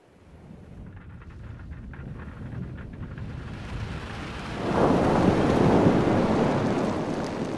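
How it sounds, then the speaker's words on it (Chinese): A thunderstorm rumbles low and heavy while wind buffets the microphone, then rain swells into a loud, dense downpour hiss that stays strong to the end. "下雨了，快出来帮忙！"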